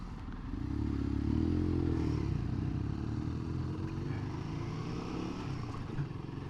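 A Royal Enfield Guerrilla 450 motorcycle rolls through a road junction, its engine a steady low drone with a slight rise in revs early on, heard from the rider's position along with wind and road noise.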